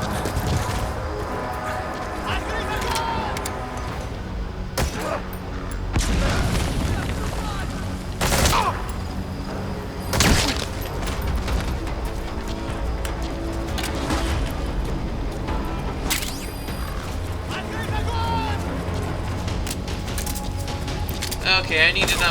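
Mortar strikes in Metal Gear Solid V set off several booming explosions in an Afghanistan battle, spaced across a steady bed of game noise with mechanical clatter and occasional speech.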